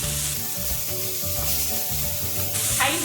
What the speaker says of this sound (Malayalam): അതും വെളുത്തുള്ളിയും ബീൻസും കൂടി ഇട്ട് വഴറ്റി കൊടുക്കാം